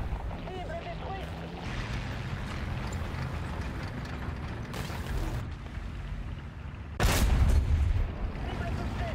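A heavy tank cannon from a Foch tank destroyer booms once in a tank video game, a loud sharp blast with a shorter burst before it, over steady engine rumble.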